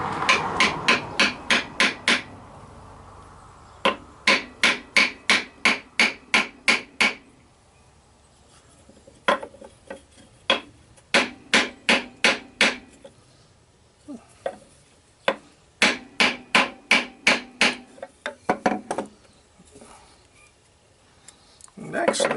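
A small piece of oak is hammered into the side grain of wood while turning a scratch awl, in close, crisp mallet blows struck in quick runs of about seven to ten with short pauses between, under no talk.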